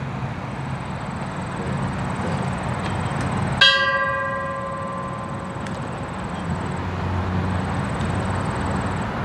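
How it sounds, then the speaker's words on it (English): A single bell strikes once at a submarine memorial ceremony. The clear metallic ring decays slowly over a low outdoor rumble, with a faint steady high whine in the background and no voices. "As we conclude this tolling of the bell ceremony"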